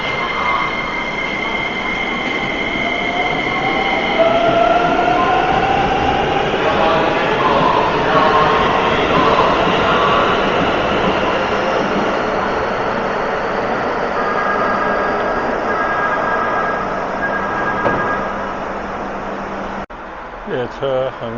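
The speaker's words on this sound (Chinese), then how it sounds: "列车很快就要进站了" A Keikyu train on the line from Haneda Airport toward Narita Airport pulls into the station with a steady roar of wheels and motors and a few squealing tones as it slows. Voices can be heard in the background.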